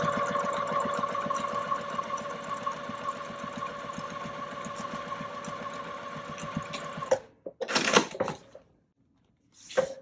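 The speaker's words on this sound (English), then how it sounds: "We're going to backstitch at the beginning and the end just to make sure that it is in place" A sewing machine runs steadily at a stitch length of about 3.5, backstitching pieces of fabric for a binder storage pouch. The close, even motor whir with rapid needle ticking lasts about seven seconds, then stops, followed by a few brief handling rustles.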